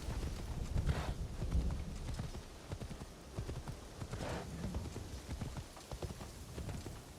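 Horse hooves clip-clopping at a steady gait while riding in the video game Assassin's Creed Shadows, a continuous rhythmic patter of close hoofbeats with a soft rain-like texture and no talk.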